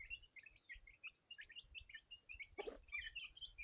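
Small chicks peep in quick, high repeated chirps at moderate distance, overlapping throughout with a brief rustle partway through, no voices.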